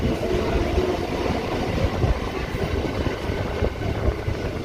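A Chennai local train running at night on the Southern Railway, a loud continuous rumble and rattle of wheels and carriages heard from inside, steady throughout with no clear voices.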